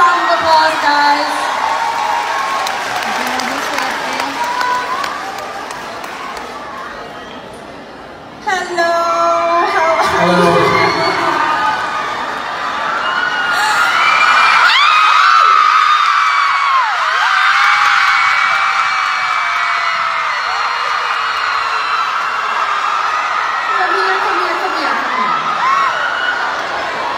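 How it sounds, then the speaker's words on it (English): Theater audience cheering and whooping loudly, a dense crowd roar with shouts and yells rising and falling across the clip, mixed with a voice speaking through amplification. "let's give her a round of applause, guys."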